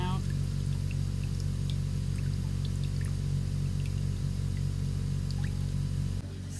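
A PANDA 3200 rpm portable spin dryer spinning a load of red laundry runs with a steady low mechanical hum while water pours and drips out in scattered splashes; faint voices may sit underneath.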